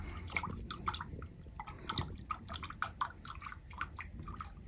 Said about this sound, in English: Wash my brush out, clean them.